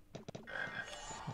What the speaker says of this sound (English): Oh, there's a frog.